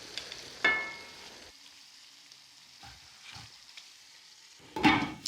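Tomatoes, peppers and mushrooms cooking with white wine in a chicken cacciatore pan, giving a soft, close sizzle with a few sharp clatters and stirring scrapes at the start and end.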